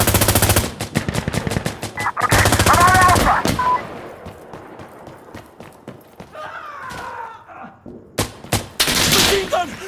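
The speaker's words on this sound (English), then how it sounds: "Machine gun! Machine gun!" Bursts of machine gun fire in the video game Insurgency: Sandstorm, loud rapid rattling volleys at the start and again near the end, with quieter scattered shots and commotion between.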